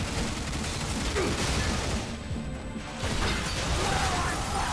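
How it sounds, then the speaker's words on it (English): Rapid gunfire during trap shooting in the video game Bulletstorm, dense bursts of shots and crashing impacts, loud and continuous apart from a brief lull in the middle. "Trap shooting."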